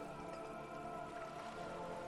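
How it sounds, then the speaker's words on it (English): Freezing rain in the video game Disco Elysium: The Final Cut makes a steady, soft, hissing patter beneath a faint sustained tonal bed, constant throughout a very short stretch. "The rain is freezing."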